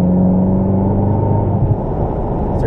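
A Ferrari California's engine pulls hard under power on a driving course, a loud, steady close-up drone with a low harmonic tone that rises slightly, then eases near the end.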